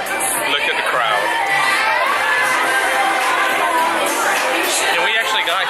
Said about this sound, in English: Okay, so it's a pretty full show. Look at the crowd.